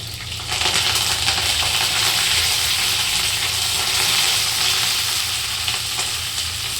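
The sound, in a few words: curry leaves sizzling in hot oil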